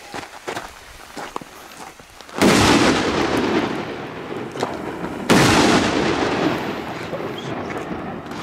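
Two heavy firework blasts boom close by in Spain, each followed by a long rumbling crackle that slowly fades.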